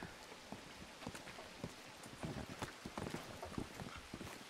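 Several horses in the Red Dead (RedM) video game shuffle close by, their hooves clopping in an irregular patter of soft knocks against a faint, rain-like background hiss.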